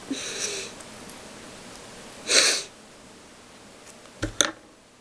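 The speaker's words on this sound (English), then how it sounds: "I've got the sniffles." A few short sniffles spaced apart in a quiet room, close and soft, with a faint tap near the end.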